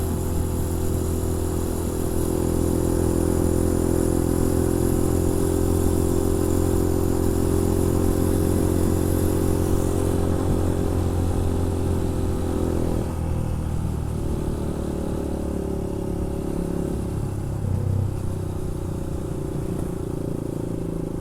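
A motorcycle rides home along a road after forest trails, its engine droning loud and steady from close up, with a brief shift in tone partway through and no talk.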